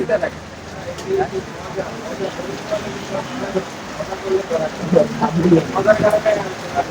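Rain pours steadily during a bicycle rally in Mirpur, a soft continuous hiss with scattered drops, while several people talk and call out over it nearby.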